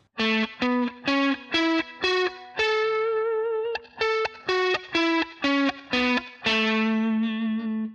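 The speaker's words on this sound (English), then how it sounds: "we want to play the major pentatonic scale" Overdriven electric guitar runs up and down a major pentatonic scale note by note, evenly picked single notes with a longer held note at each turn.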